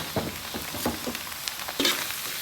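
Mama instant noodles with carrot, soy sauce, oyster sauce and sugar are stir-fried in a hot pan, steady sizzle under repeated quick stirring scrapes and taps, close up with no talking.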